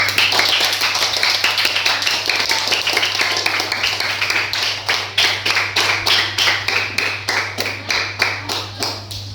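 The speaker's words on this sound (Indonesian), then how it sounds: "kita beri tepuk tangan dulu" A classroom of students claps for a group presentation, a dense burst of loud applause that thins into steady, distinct claps toward the end, with a low steady hum underneath.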